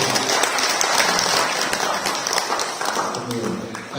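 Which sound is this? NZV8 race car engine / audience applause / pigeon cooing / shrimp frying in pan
audience applause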